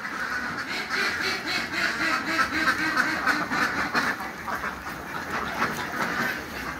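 A flock of ducks on a duck farm quacks continuously, many overlapping calls forming a steady, busy din close by.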